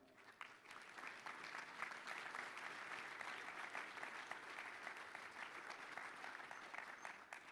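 A crowd at QuakeCon 2012 applauds steadily for several seconds, a dense, even wash of clapping that neither builds nor fades.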